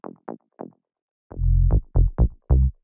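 Plucky synth top layer of a minimal house bass plays solo, short bright plucked notes first, then fuller low, punchy notes in a bouncy syncopated rhythm, close and clean.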